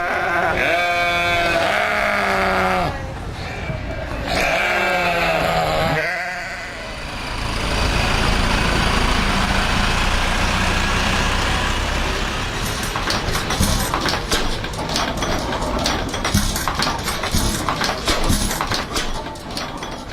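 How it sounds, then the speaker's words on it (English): County fair ambience: sheep or goats bleat several times up close, then a broad rumble of vehicles and crowd noise with clattering and scattered activity fills the rest. "that gives you a little bit of a sense of some of the sounds of the county fair"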